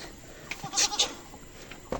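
Goats bleat on a farm during a corn harvest: a few short, close bleats in quick succession over quiet background noise.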